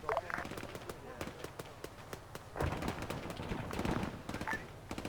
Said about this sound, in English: I got something heavy shooting to the west, close on the town